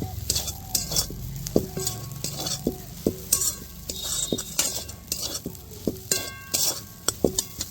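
Breadcrumb filling for Bengali moglai paratha stirred in a hot pan over low heat, with a steady sizzle and frequent clinks and scrapes of a metal utensil against the pan.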